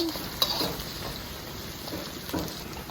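Shark fish fries in a hot wok with a steady, close sizzle and crackle, joined by occasional light scraping and clinks from stirring, and no voices.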